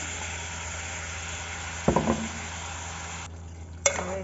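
Masala being stirred into a frying curry of fresh pigeon peas in a pan: a soft continuous sizzle with two distinct scraping clatters of a spoon against the pan, close by.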